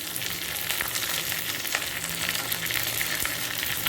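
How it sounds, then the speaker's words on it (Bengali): Dry red chilli, mustard seeds and curry leaves crackle in hot oil for a Bengali tempering, a loud dense sizzle with scattered pops running steadily and close, no voices. "একটা শুকনো লঙ্কা ফোড়ন এক চামচ সর্ষে একই সাথে দিয়ে দিচ্ছি কারি পাতা"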